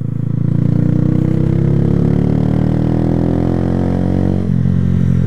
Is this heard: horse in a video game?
no